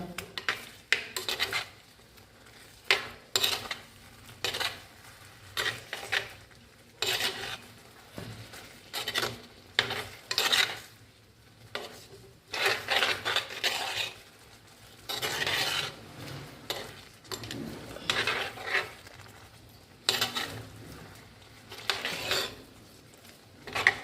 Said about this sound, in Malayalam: നമുക്കൊന്ന് ഇളക്കി യോജിപ്പിച്ച് കൊടുക്കാം